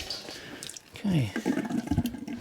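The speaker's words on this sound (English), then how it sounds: "just give this a bit of a hose down in here" Water from a hose splashes and gurgles into a brewing vessel, rinsing it out at close range in a short, uneven burst of running water.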